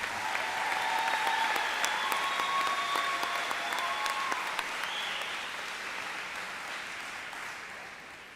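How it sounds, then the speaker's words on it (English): Sustained applause from a high school and adult education graduation ceremony audience honoring the speakers, a dense steady clapping crowd that slowly fades in the final seconds. "I think we should give one more round of applause for all of our speakers."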